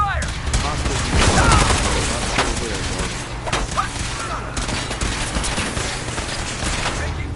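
Dense gunfire from several weapons during a firefight in modded Institute gameplay, rapid overlapping shots forming a loud continuous barrage with mechanical clatter and game voices calling out over it.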